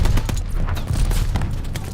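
Machine gun fire in the World War II shooter Call of Duty: Vanguard, rapid irregular bursts of close gunshots with sharp cracks over a low rumble of battle.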